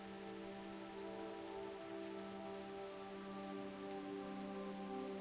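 Steady, soft patter of raindrops in Reverse: 1999 during the La Primavera di Firenze event, a faint continuous hiss over a low sustained musical hum, with no voices.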